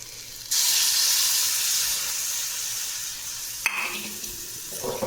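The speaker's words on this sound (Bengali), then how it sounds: "দেখো সবজিটা আমার ভাজা ভাজা হয়ে গেছে, এবার আমি এতে জল দিয়ে দেবো" Water poured into a pan of frying vegetables sets off a sudden loud hiss and sizzle that slowly fades, followed by a brief clatter near the end. It is heard close up, with no talking.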